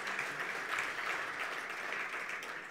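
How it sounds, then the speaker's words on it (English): An audience at a national green hydrogen conference in Namibia applauds, a dense, even wash of clapping heard from a distance that keeps a steady level through the whole stretch. "A round of applause,"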